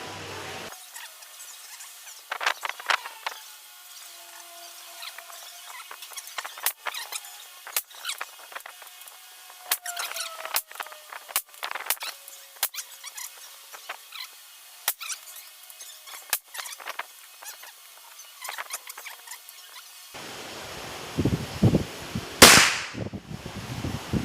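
A rusty .22 LR rifle fires a string of sharp, cracking shots at irregular intervals, each one brief and close, with a louder burst of noise near the end.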